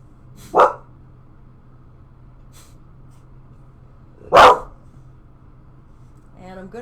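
A dog gives two loud, sharp barks several seconds apart during a quiet home yoga session, with a faint bit of voice at the very end.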